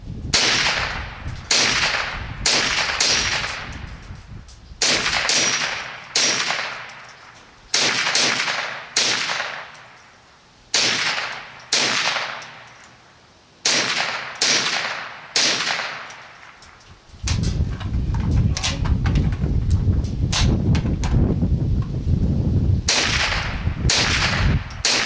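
Gunshots fired at a reactive target ring out one after another, sharp, loud cracks spaced a second or so apart, each with a short echoing tail, before a steady wash of broadband noise takes over.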